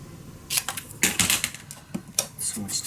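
Paper for a mini scrapbook album is being cut into a strip, making a string of sharp, crisp snips and clicks at an irregular pace, close and moderately loud.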